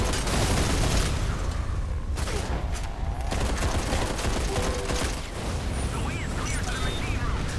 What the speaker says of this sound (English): There's no feedback for shooting the guns